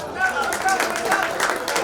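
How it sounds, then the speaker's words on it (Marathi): Steady applause from the audience at a staff get-together of Bhiwandi bus depot workers, a dense patter of many hands with voices and chatter mixed in throughout. "यांच्यासाठी विशेष टाळ्या."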